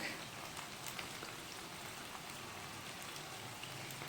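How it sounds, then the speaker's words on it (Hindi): Chicken frying in a pan while cooking biryani, a steady close sizzle and crackle of hot oil with no talk. "चिकन अब हमारी वाइट होगी, पिंक से अच्छी तरीके से भून चुकी है।"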